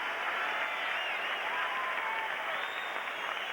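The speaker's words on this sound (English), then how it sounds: "Peter Sundstrom, who gets a nice ovation from this crowd" A hockey arena crowd applauds a player in a steady, sustained roar of clapping, broad and somewhat distant, without voices rising above it.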